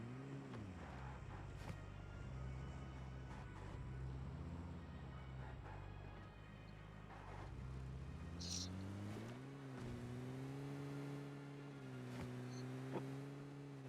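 A car engine in PUBG Mobile hums steadily, its pitch rising and dipping as the vehicle accelerates and shifts, with faint game effects in the background.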